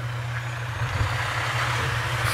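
Truck engine rumbling near a roadside electrical fire on Lucas Valley Road in Nicasio: a steady, low idling drone, fairly close and constant, with faint background noise and no speech.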